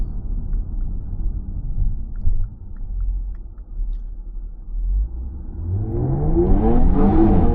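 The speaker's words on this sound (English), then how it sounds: "we're getting some wheel spin, but not as bad" Jaguar F-Type accelerating hard with traction control off and wheels spinning, a low rumbling idle that swells into a loud, rising engine roar toward the end.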